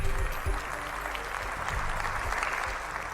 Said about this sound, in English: Everyone, another round of applause for Stacy